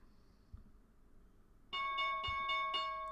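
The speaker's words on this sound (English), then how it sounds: "There's the bell." A stock market opening bell rings out as rapid, sustained electronic ringing pulses with steady harmonic tones, starting abruptly after a quiet stretch and continuing loudly to the end.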